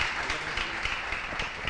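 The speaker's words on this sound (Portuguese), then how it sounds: "Vou dar uma salva de palmas" A church crowd gives a short burst of applause, dense steady clapping that fills the brief moment.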